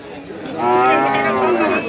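Cattle at a busy cow market in Maijdi, Noakhali, let out a long, loud moo that swells and holds near the microphone, with faint crowd murmur beneath.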